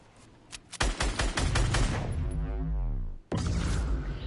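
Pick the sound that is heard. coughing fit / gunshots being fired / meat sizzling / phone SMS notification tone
gunshots being fired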